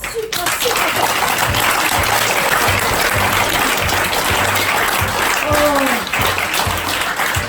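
An audience at an improv theatre show applauds loudly and continuously for over seven seconds, dense clapping close by with some voices and cheers mixed in.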